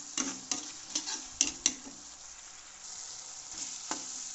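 Maggi noodles fry in a pan with cumin powder, salt and turmeric, giving a soft, even sizzle broken by several sharp ticks of a spoon against the pan early on, then quieter frying.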